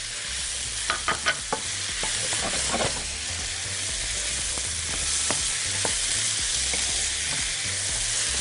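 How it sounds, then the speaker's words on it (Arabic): Peppers go into a hot pan for stir-frying with chicken and vegetables, giving a loud, steady sizzle throughout, with a few sharp clicks and scrapes of stirring near the start. "هنزل بالفلفل"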